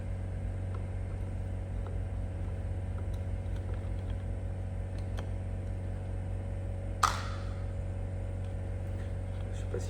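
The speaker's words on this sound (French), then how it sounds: "Désolé pour le bruit, c'est le compresseur." An air compressor runs continuously in a workshop during carburetor cleaning on a Yamaha 600 Fazer, giving a steady low droning hum with one brief sharp clack partway through.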